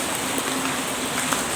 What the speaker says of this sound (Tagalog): Narinig niyo umuulan.